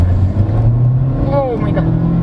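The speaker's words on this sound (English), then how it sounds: "Okay, sport mode seems to be more eager to push forward. And then let's accelerate." A 2022 Honda Civic S Turbo with a CVT accelerates in sport mode, heard from inside the cabin as a loud, steady engine drone with a faint rising tone near the end.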